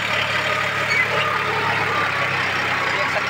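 A John Deere 5105 tractor pulling a cultivator while ploughing holds at about 1500 rpm, giving a steady low diesel drone that stays near and constant throughout.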